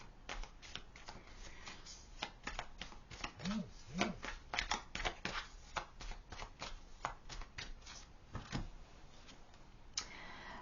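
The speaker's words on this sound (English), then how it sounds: "Let me get you a few more cards here." Tarot cards riffled and flicked in a steady run of crisp, close snaps and slides, fairly loud, with a brief faint voice partway through.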